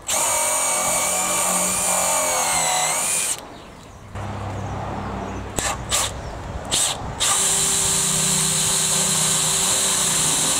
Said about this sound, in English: So I'm gonna drill and tap holes in here